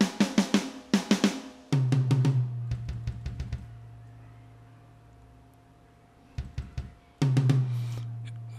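Drum solo from Steve Slate Drums Platinum sampled drums in Reaper: loud, close bursts of rapid hits and fills with cymbal crashes ringing out, separated by pauses where the sustained tones decay.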